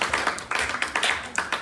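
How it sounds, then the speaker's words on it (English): A small group claps in a classroom physics lesson on inertia, quick separate hand claps in an uneven rhythm, close and fairly loud, with no voices over them. "Come on, I want to clap for that."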